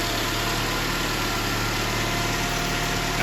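A Saturn SL2's original twin-cam 16-valve engine idles steadily under the open hood, a loud, close, continuous hum with an even low vibration and no voices.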